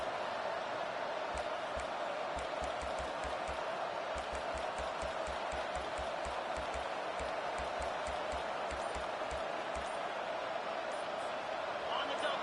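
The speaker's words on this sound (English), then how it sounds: "This crowd bringing the energy and noise early" A stadium crowd at a football game keeps up a constant, dense roar of cheering, with a steady pattern of low rhythmic thumps repeating underneath and an announcer talking over it.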